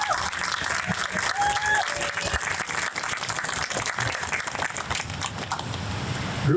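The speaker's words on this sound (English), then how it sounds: "Let's give it up for a big round of applause for Mr. Kareem Adine." A round of applause for a speaker at the Sal Bontempo Park groundbreaking, outdoor crowd clapping steadily for several seconds at moderate volume.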